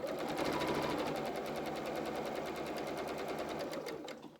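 A sewing machine stitches steadily and fast, its needle ticking in an even rapid pulse while sewing frills on children's shorts and dungarees, loud and close with no talk.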